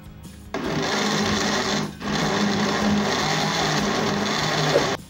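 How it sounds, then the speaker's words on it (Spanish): Red enchilada sauce whirs in a blender, a loud steady motor drone that starts abruptly, dips briefly in a short pause and resumes, close and without talk. "Y ahora sí vamos a proceder a licuar nuestra preparación."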